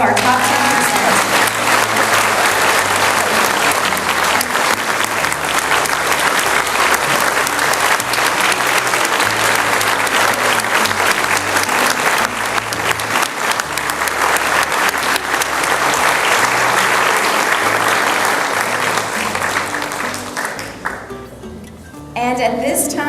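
A crowd at a high school honors breakfast applauds its top graduates with loud, dense, sustained clapping that fills the room before fading near the end, with some voices mixed in.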